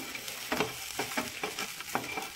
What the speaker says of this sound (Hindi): तो उसमें डाले दे रहे हैं दाल मखाने। तो 1 से 2 सेकंड तक हम इसको ऐसे चलाते रहेंगे।